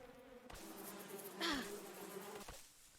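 Bees buzz in the video game Above Snakes, a faint drone with one brief nearer flyby in the middle, set against quiet outdoor game ambience with a few soft clicks and no talk.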